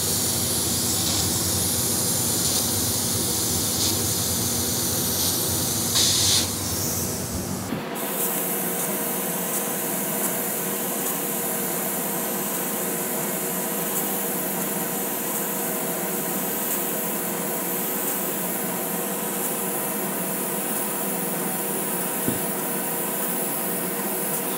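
An airbrush sprays paint coats onto a black panel in a steady, close hiss, louder and harsher for the first eight seconds, then continuing as a softer, even spray to the end.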